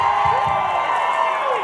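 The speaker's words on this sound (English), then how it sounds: "y'all can clap for that" Audience at a Total Life Changes business talk clapping and cheering together, a loud continuous wash of applause with whoops rising over it for a brief moment.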